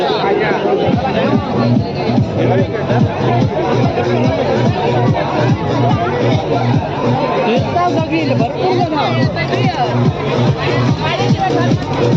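Many people mill about at a village fair (jatra) in Kharepatan, producing a close, steady hubbub of overlapping chatter and voices without a pause.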